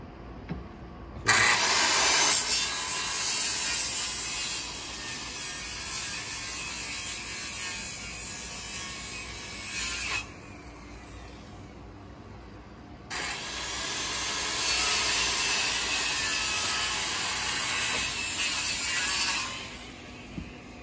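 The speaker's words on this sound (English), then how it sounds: "For now, we're cutting these 4x4s." A power saw cuts through 4x4 wooden deck posts, loud whining runs in two long passes separated by a brief quieter gap, with no speech.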